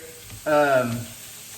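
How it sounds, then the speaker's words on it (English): Ground meat frying in a pan for a marinara bolognese, broken apart with the side of a spatula; a brief, close scraping and sizzling stroke lasting about half a second. "So I'm using the side of this spatula to break the pieces of meat up."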